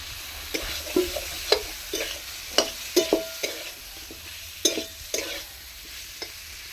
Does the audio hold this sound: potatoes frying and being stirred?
yes